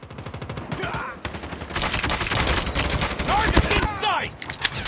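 Gunfire in the video game Call of Duty, with dense rapid shots and overlapping bursts filling the whole stretch, loud and close, with short radio-style voice callouts cutting in between.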